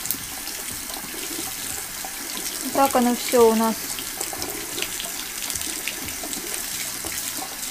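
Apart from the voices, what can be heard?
hot water running from a tap onto artificial hair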